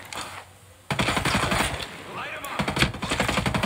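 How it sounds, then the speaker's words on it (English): Enemy gunfire aimed at the player in Ghost Recon Breakpoint: sudden rapid automatic bursts, loud and continuous, with overlapping shots and game sounds. "Wait, who's shooting me?"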